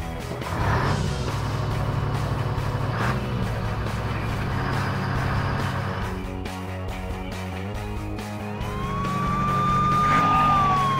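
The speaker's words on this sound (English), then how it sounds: "And here is the ambulance car." A cartoon ambulance's siren rises and wails over a busy musical backing, growing louder toward the end.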